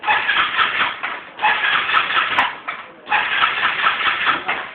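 A car fitted with an anti-theft alarm and immobilizer system has its starter cranked in three loud, close, continuous bursts with short pauses between them, the engine not clearly catching.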